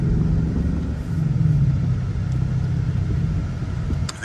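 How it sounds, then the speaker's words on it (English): A 2021 Ford Mustang Mach 1 engine rumbles under load, with a brief rise in revs in the middle as it auto rev-matches on a downshift, heard from inside the car. "the car's got a self-rever that revs up, so you can slide it into gear better"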